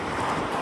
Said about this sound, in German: Es windet. Und dann nicht gerade wenig.